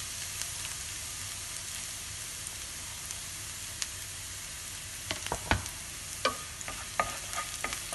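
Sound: garlic sautéing in hot oil

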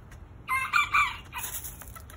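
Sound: chickens clucking while a border collie herds them

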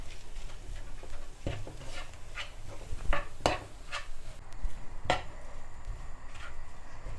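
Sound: mashing a vegetable mixture for Sri Lankan vegetable rolls

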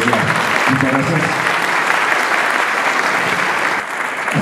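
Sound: applause

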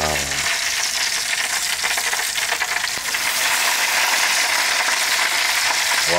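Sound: meat sizzling while grilling

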